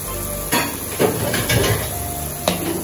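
A lid set onto a cooking pot in a kitchen, giving a few sharp metallic clanks among quieter clatter of pots and pans over a steady background sizzle.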